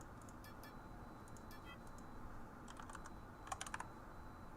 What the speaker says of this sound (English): I'm typing it into the market